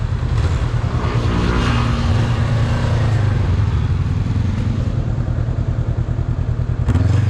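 Motorcycles ridden up a steep mountain road make a loud, constant engine drone with low rumble and slight rises and falls in revs, close to the listener, with no talking over it.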